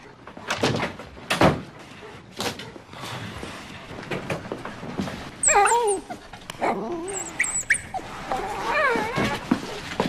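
A dog whimpers with thin, rising whines and gives a few short barks in a movie scene, with scattered thumps and light background noise between the calls.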